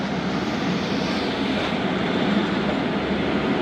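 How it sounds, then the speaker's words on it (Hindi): The Zakariya Express pulls out of Liaquatpur railway station with a steady, loud, broadband rumble and roar of the moving train, continuous and close, with no voices. "11:54 पर ट्रेन रवाना हुई है लियाकतपुर रेलवे स्टेशन से"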